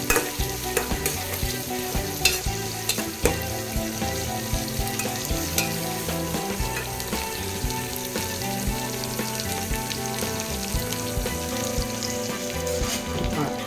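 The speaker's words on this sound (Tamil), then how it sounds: "வெங்காயம் இந்தளவு நல்லா வணங்கிடுச்சுங்க." Onions sizzle and crackle steadily in a hot pan for a Tamil fish curry, with occasional stirring scrapes and pops, close and moderately quiet, no one speaking.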